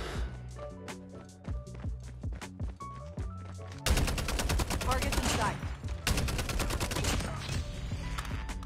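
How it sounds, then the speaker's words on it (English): Rapid automatic gunfire from a gun in a Call of Duty mobile shooter, dense bursts over game music, with sharper, louder sustained firing in the second half and no talk. "This gun really feels good. Sounds really good too."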